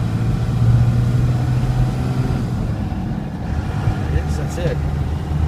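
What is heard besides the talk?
2000 Dodge Ram diesel manual 4x4 truck engine running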